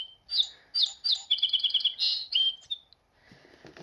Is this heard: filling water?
no